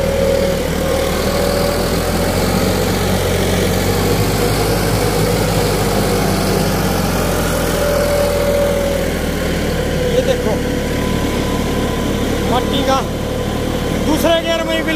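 A New Holland 3630 tractor engine runs steadily in second gear while working soil, a loud, constant low rumble with someone talking over it.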